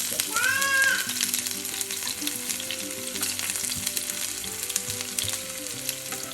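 Cumin seeds and chopped shallots sizzle in oil over a low flame for a green chilli curd curry: a steady, close crackling fry throughout, with a short high whining cry near the start and no talking.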